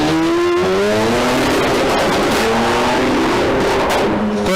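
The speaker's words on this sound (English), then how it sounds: "13B Mazda rotary turbo" A race car with a 13B Mazda rotary turbo engine accelerates at a sprint event, its loud, close engine note climbing through rising pitch sweeps with a gear change, with no talk over it.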